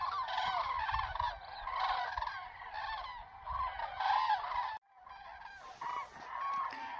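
A large flock of cranes, scattered by fireworks, calls continuously while circling in the dark, a dense chorus of loud trumpeting honks overlapping close by, with a brief gap before the calls resume.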